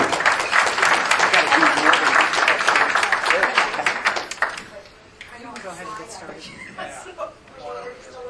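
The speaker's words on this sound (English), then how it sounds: "Please give them a round of applause." Audience at an awards reception applauding with a full burst of clapping for about four seconds, then fading into scattered claps and chatter as a speaker resumes talking.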